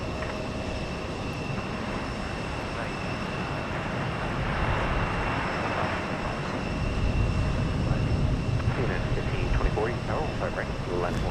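A Spirit airliner passes overhead at Houston Intercontinental airport. A broad jet roar swells steadily over several seconds against continuous background noise, with talk and radio chatter underneath.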